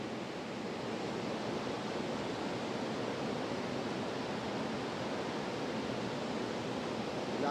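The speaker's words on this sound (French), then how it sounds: "La cascade elle est gigantesque" A huge waterfall roaring in an outdoor setting, a dense, steady broadband rush of falling water that holds at the same level throughout, with no voices or other sounds.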